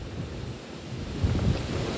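Strong wind gusts roar across a beach during a storm, a steady, loud rush of low-pitched buffeting against the microphone with surf blended underneath and no voices.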